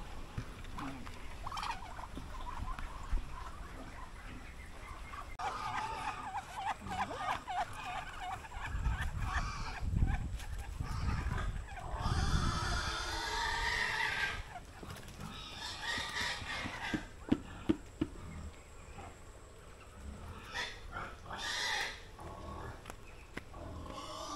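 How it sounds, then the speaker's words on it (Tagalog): Chicks and chickens cluck and peep from a pen on a small farm, with scattered calls and a louder burst of fowl noise in the middle, continuing steadily without talk. "Ito yung mga sisiyo namin nito"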